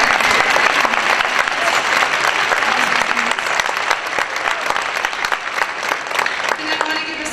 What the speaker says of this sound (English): just give a round of applause for all of those people who did it